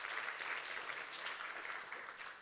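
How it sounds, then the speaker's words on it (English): Applause at a sustainable aviation conference, a faint, distant wash of clapping from the audience holding steady for a couple of seconds. "Please give him a very warm round of applause"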